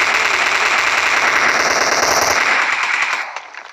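A video game machine gun fires in one long, rapid, unbroken burst, loud and close, then cuts off near the end, leaving brief quiet.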